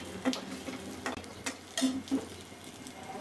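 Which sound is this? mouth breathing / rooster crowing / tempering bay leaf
tempering bay leaf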